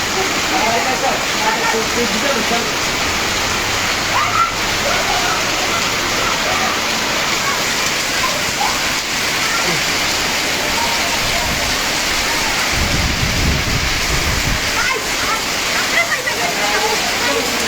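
A heavy hailstorm with large hailstones pelts the town of Habiganj, Bangladesh, making a dense, loud, unbroken roar of impacts throughout, with people talking under the din.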